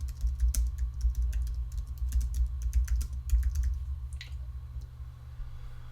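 Someone types on a computer keyboard in bursts of quick clicks and key taps over a steady low hum, moderately close, then slows to a few scattered keystrokes; no one speaks.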